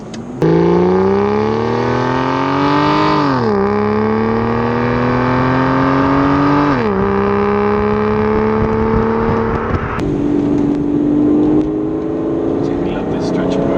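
Aston Martin DB9 Volante engine pulled up through the rev range on the road, loud rising roars broken by gear changes, recorded from inside the car.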